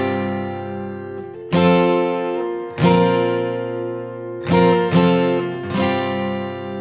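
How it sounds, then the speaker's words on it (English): Acoustic guitar chords struck with single downstrokes for the opening of a song, five or six separate strums ringing out close and clear with pauses between, no voice over them. "At the start of the song, you're just going to play single downstrokes on each chord, like this."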